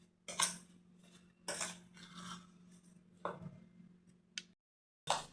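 Rava cake batter with a couple of spoons of maida is mixed in a bowl, with four or five clinking, scraping strokes of a spoon against the dish, alternating with brief pauses and a low steady hum beneath.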